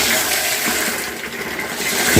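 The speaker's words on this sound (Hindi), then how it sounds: "फिर से हम पानी द्वारा भर लेते हैं" Water gushing steadily into a container to fill it while preparing an organic Trichoderma and Pseudomonas fungicide mix for banana farming, a continuous close pour with no talk.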